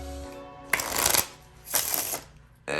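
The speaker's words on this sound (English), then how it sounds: "an in the hands riffle shuffle as well" A deck of playing cards is riffle shuffled in the hands, two crisp bursts of fluttering cards about a second apart, each ending in a soft bridge, then a third starting at the close; no talking.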